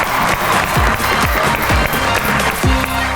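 Studio audience applause greeting comedian Qaiser Piya onto a Pakistani talk show, a steady close burst of clapping that fills the stretch with faint voices underneath.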